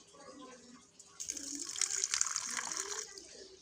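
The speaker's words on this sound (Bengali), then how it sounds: "এবার ওর মধ্যে আমি জল দিয়ে দেবো।" Water from a tap pours into a small amount of white mustard seeds for soaking, a close, bright splashing stream that starts abruptly and runs for a few seconds.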